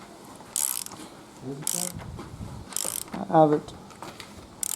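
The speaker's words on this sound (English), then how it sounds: "put back your crank bolts, give it a crank" A ratchet cranks the crank bolt on a Honda Prelude engine during a camshaft and timing belt install, giving several short bursts of rapid clicking close by, with a brief spoken line between them.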